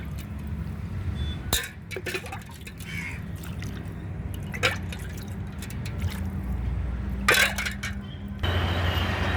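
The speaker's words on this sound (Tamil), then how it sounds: "இந்த செடிக்கு ஊற்றுறேன்" Water poured onto garden plants, a pink rose among them, in a home garden, giving a steady wet trickle with a few splashy clinks and drips across the whole stretch.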